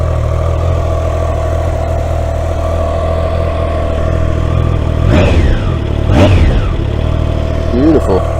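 A Triumph Trident motorcycle engine runs steadily near the microphone, then revs up sharply a few times in quick bursts, with a rider's voice speaking over it.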